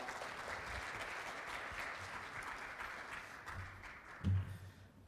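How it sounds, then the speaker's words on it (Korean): An audience at a business executives' breakfast lecture applauds to welcome a professor, a steady, fairly distant patter of many hands with no talk over it. "큰 박수 부탁드리겠습니다"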